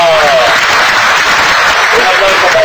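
Loud, close applause from a live crowd cheering Cubans at a Spanish-language comedy show, a dense continuous clatter of hands with a hint of voices mixed in.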